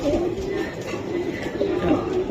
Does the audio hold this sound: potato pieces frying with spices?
no